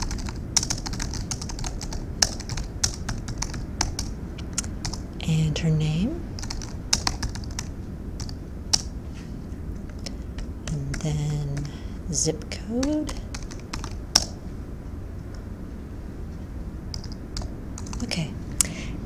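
Soft typing on a computer keyboard in a quiet flower shop setting, a steady run of light clicks and taps continuing throughout while a soft-spoken voice talks gently over it.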